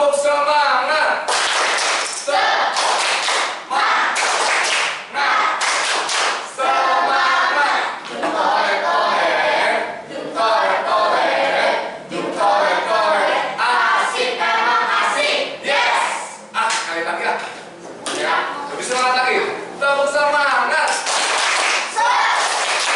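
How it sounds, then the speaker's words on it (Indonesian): A group performs a 'tepuk semangat' spirit chant, with loud rhythmic bursts of hand clapping alternating with voices chanting together up close throughout. "Tepuk semangat."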